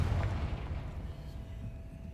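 A Confringo spell blast in Hogwarts Legacy erupts as a deep, booming explosion that hits hard at the start and rumbles away over a couple of seconds, with no speech.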